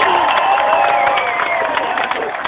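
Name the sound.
record-setting crowd at rally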